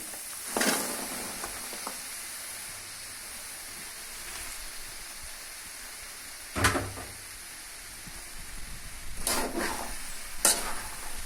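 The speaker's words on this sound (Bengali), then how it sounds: "এখানে বাঁধাকপি আর নতুন আলু একসাথে দিয়ে দেব, দিয়ে ভেজে নিব।" Cabbage and new potatoes fry in a pan with a steady soft sizzle, broken by a few sharp scrapes and clacks of stirring.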